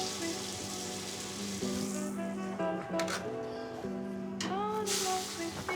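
Ribeye steak sizzling steadily in a hot pan while basted with melted butter, a continuous frying crackle with brief spoon scrapes, and a person talking over it.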